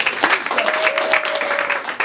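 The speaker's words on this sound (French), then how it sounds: "Acclamons Jésus-Christ" A church congregation applauding and cheering, steady crowd clapping for about two seconds with a sustained voice rising over it.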